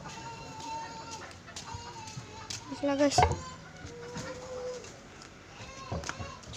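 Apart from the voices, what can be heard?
live chicken clucking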